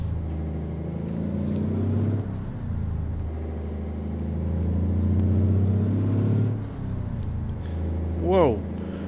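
Simulated Cessna 172 fitted with a truck transmission in Microsoft Flight Simulator, its engine droning loudly and steadily while revving shifts come through, with someone talking over it throughout.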